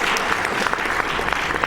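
Applause from a live audience at a Summer Games Done Quick 2014 speedrun marathon during a Super Star Wars: Return of the Jedi run, steady dense clapping filling the room throughout.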